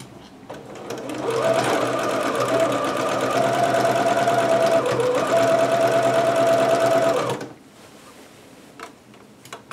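A sewing machine stitches a permanent seam on a garment from Butterick pattern 6322, running loud and steady for about six seconds close by before it stops, followed by light handling noises.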